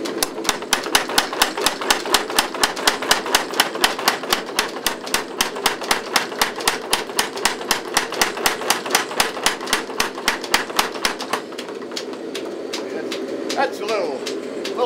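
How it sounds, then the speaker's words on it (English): A trip hammer forges 5160 spring steel into a knife, pounding in a fast, steady train of loud, sharp blows for about eleven seconds before stopping, with faint voices underneath. "I'm going back to trip hammer now"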